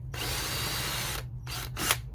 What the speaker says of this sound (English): I'm going to push a little bit to dimple the plastic, and then I'm going to start drilling.